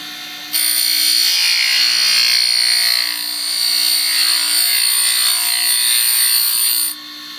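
A grinder sharpens an end mill with a loud, steady high-pitched whine that starts abruptly, holds for several seconds with slight wavering, then cuts off.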